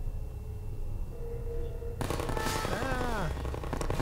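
Enemy gunfire in a first-person video game, a loud burst of rapid shots that erupts suddenly halfway through after a quieter stretch and keeps crackling to the end, with a sweeping tonal game effect over it.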